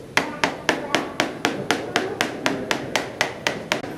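A wheel of cheese at a cheese dairy is tapped in a steady series of about fourteen sharp, hollow knocks spaced roughly a quarter second apart, close and clear against a quiet background.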